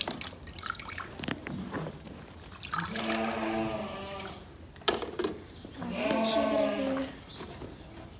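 Warm water from a rag rinses soap off a dairy cow, with dripping and splashing through the stretch, and voices briefly talking in between.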